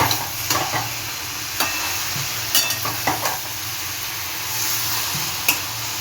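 Capsicum frying in a pan with asafoetida water gives a steady sizzle, punctuated by repeated clacks and scrapes of stirring.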